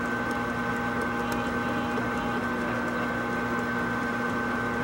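A lathe cutoff tool parting off a small metal part, heard as a steady machine hum with a sustained tonal whine, close and even throughout, with no talk.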